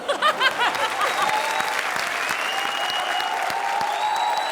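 A studio audience at a comedy show applauds the challengers with steady, dense clapping that holds for several seconds, loud and close, with a few thin whistle-like tones above it.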